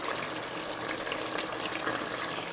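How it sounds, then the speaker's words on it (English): Running tap water splashes steadily over a salted preserved lemon being rinsed in a kitchen sink, a constant close hiss with no talking. "take 1 preserved lemon, wash it with water to remove the salt"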